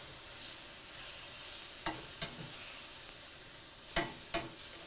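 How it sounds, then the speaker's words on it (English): Chicken sizzles steadily in a hot pan, a soft continuous frying hiss broken by a few sharp clicks and taps of a utensil moving the pieces. "I'm letting it cook a little longer, get a little bit better sizzle on it"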